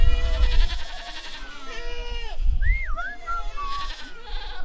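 Goats bleating on a farm, several wavering cries in a row, loud and close, with low rumbling noise in between.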